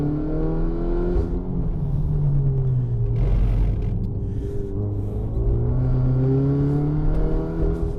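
Peugeot 308 RC turbo car accelerating on a wet circuit, engine note climbing and dipping in sweeping revs, loud and close with a steady rumbling drone.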